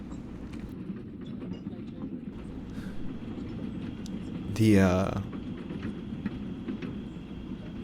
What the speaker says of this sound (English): train rolls to a stop in Arkham Station